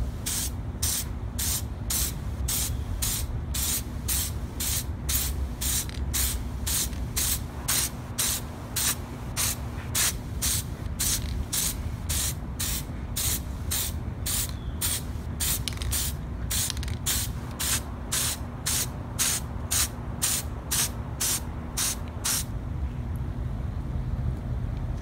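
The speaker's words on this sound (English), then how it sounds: "For the copper spray, you just need a light coat." Copper gasket spray hisses out of an aerosol can onto car headers on an LS1-swapped Nissan 240SX, in a long run of short, evenly spaced bursts that stops near the end.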